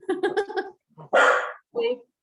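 A pet dog barks twice in a home setting, one loud full bark followed by a shorter one, right after a person speaks briefly nearby.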